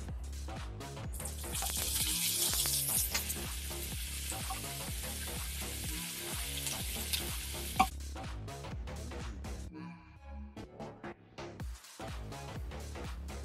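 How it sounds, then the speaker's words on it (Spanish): Spinach sautés in garlic-flavoured olive oil for a Spanish chickpea and salt cod stew, making a soft sizzle with stirring clatter, scrapes and occasional louder knocks throughout. "vamos a rehogar las espinacas"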